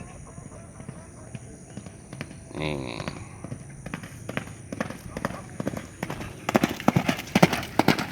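Racehorse training at the Sumedang horse racing field, with hoofbeats that start sparse and grow into a fast, louder drumming rhythm near the end, under occasional nearby talk and ambient noise.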